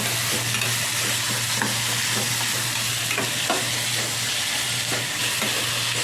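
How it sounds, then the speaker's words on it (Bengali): Chopped garlic and ginger fry in a pan and are stirred steadily, making a close, constant sizzle with repeated scraping strokes over a low background hum. "আর রসুন কুচোগুলো দিয়ে দেবো। দিয়ে ভালো করে নাড়াচাড়া করে নেব।"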